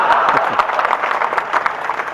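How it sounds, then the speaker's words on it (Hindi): Audience applause fills a hasya kavi sammelan comedy poetry gathering, dense steady clapping from a large crowd throughout, close and loud with faint cheering mixed in. "आपकी तालियां चाहूंगा साहब"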